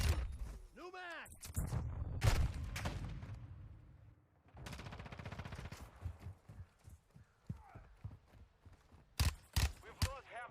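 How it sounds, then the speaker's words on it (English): Video game shooter gunfire crackles in scattered bursts and single shots amid busy combat sounds, with quieter stretches and sharp loud cracks near the end. "I'm taking fire!"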